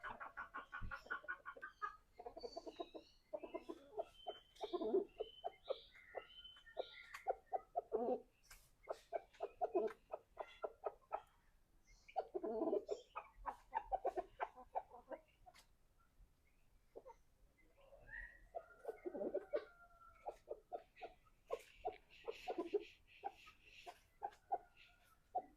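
Chickens and turkeys in a yard give repeated short clucks and coos, bursts close and clear in an irregular rhythm with brief pauses, with no talk over them.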